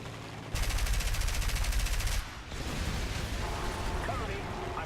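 Aircraft guns in the War Thunder video game fire one rapid, loud burst lasting under two seconds, then give way to a rumbling engine and battle noise.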